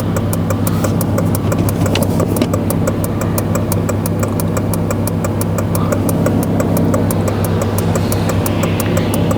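Supercharged 8th-generation Honda Civic Si engine pulling hard through a drifted corner, a steady loud drone with a rising whine and rhythmic ticking throughout, close and continuous.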